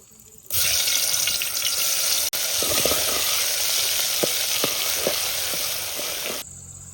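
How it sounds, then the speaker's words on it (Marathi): Ground masala hitting hot oil in a pan for a Vidarbha-style fish curry cooked outdoors in a village courtyard, a loud sustained sizzle that bursts in suddenly and holds steady with small crackles before cutting off. "तेल गरम झालं मसाला टाकतो"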